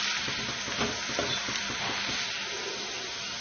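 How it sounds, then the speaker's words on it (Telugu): Onions fry toward brown for biryani-style garnish, a soft, even sizzle with light stirring taps, fairly quiet and continuous with no voices. "వీటిని ఎర్రగా వేసుకోవాలి, బ్రౌన్ ఆనియన్స్ లా వేసుకోవాలి."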